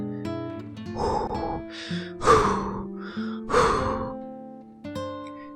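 Heavy, labored breaths in and out come in several distinct gusts with short pauses, close and fairly loud over a faint tonal background.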